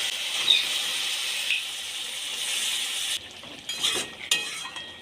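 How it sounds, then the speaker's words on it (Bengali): Boiled bottle gourd and chickpeas being stir-fried in a pan, a steady hissing sizzle that drops away midway, then a few scraping stirs and clinks of the utensil against the pan, close and moderately loud. "দিয়ে ভালো করে কষিয়ে নেব"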